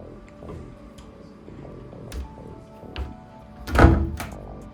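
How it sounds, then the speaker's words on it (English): A hotel room door being pushed closed, a few soft knocks and thuds ending in a louder solid thump near the end, close by in a quiet room. "just know you have to push that door closed, like push it"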